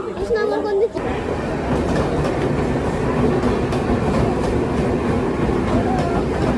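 Train rolling through Krishnanagar City station on the Sealdah line, a steady broadband rumble with rhythmic wheel clatter throughout; a vendor's voice calls briefly at the start before the rolling noise dominates.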